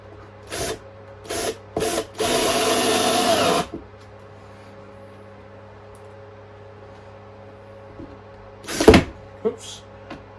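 Short bursts from a power drill driving screws into a wooden baseboard frame, a few quick whirs followed by one longer run of about a second and a half, then quieter handling knocks.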